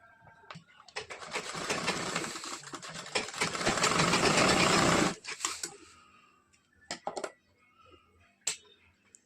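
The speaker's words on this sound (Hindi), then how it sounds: "दोनों साइड शोल्डर की इसी तरह से सिलाई कर लेंगे।" A sewing machine stitches the shoulder seams of a katori blouse in one steady, loud run of about four seconds, then stops, followed by a few short bursts and handling clicks.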